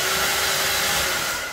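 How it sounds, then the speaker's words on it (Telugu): A hair dryer blows in a steady, loud, continuous whir with an even airy rush and a faint motor whine, with no talking. "నేను కానీ ఇంద్రా కానీ హెయిర్ డ్రైయర్ వేసుకుంటే దానికి డ్రైయర్ వేయాలి."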